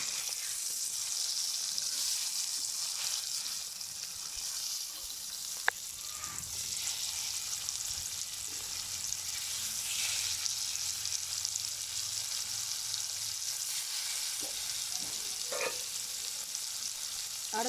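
Fish frying in hot spattering oil, a steady dense sizzle that runs continuously and close throughout, with a few brief sharp pops and crackles rising over the hiss.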